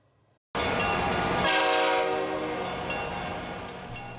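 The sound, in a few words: BC Rail train and train horn in Squamish yard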